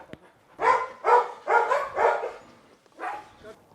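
A dog at a dog training and boarding centre in Cameroon barks five times nearby, four quick loud barks in a row, a pause, then one more.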